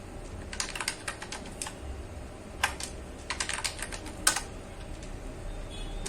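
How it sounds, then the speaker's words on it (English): A password is typed on a computer keyboard in short bursts of quick key clicks, with pauses between groups and one louder keystroke near the end. "Now enter the password which you entered in the setup process."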